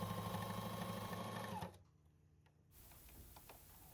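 Sewing machine stitching a keychain wallet, a loud steady run for about a second and a half that stops abruptly, leaving a brief near-silence before faint handling noises.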